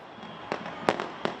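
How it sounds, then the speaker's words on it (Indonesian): New Year fireworks for 2024 exploding in the night sky: three or four sharp, separate bangs at a moderate distance over a steady background rumble. "Puncak menara diterangi dengan berbagai warna saat kembang api menyemarakan langit malam."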